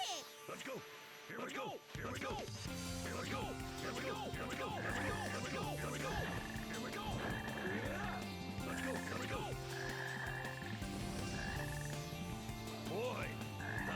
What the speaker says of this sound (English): Look at all those frogs.